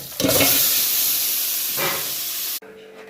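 Marinated chicken hitting a hot pan at a Kolhapur dhaba gives a sudden loud, close hissing sizzle that holds steady for over two seconds, then cuts off abruptly.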